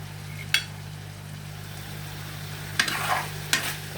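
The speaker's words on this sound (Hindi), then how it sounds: "रेडी हो गई हैं फ्राई अरबियाँ" Arbi (taro root) frying in a pan makes a low, steady sizzle, broken by three sharp stirring scrapes with brief bursts of crackle, over a constant electrical hum.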